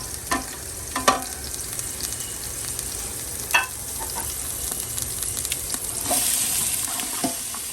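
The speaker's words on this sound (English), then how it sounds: "And we are gonna saute this down" Vegetables sauteing in a big gumbo pot for seafood gumbo, a steady close sizzle with scattered clinks and scrapes of stirring over a continuous frying hiss.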